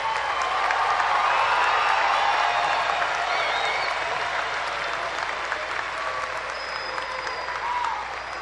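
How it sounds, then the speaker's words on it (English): A large audience applauds a graduating university class at a fall commencement ceremony, a dense, steady roar of clapping in a big hall with faint cheers and murmurs mixed in, holding loud throughout. "One more round of applause for them."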